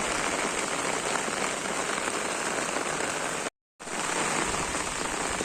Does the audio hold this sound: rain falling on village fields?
yes